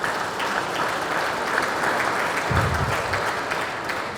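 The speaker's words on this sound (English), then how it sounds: "a round of applause for yourself." Steady applause from an audience at a political party event for a governorship primary election committee inauguration, continuous and moderately distant, with no speech over it.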